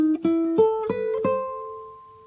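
A guitar plucks the short second fragment of the Nicaraguan folk piece Balada Campestre, about five clear single notes rising in pitch, the last one left to ring and fade, close and alone.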